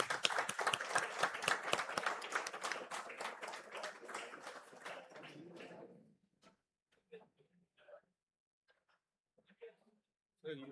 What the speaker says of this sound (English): a big round of applause to all the proud graduates from the Department of Chemical Engineering